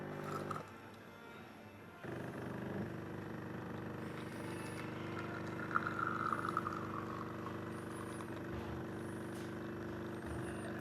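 A Jura C9 coffee machine brews a ristretto: a brief pump buzz, then a steady grinding hum with a thin trickle of pouring coffee, fairly quiet and close, with no talk.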